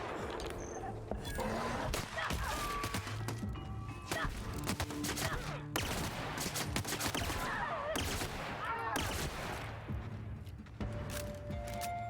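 Dense, continuous gunfire from a weapon in the sci-fi shooter The Outer Worlds, with rapid overlapping shots, thuds and impacts running steadily throughout at a loud, close level, with no talk over it.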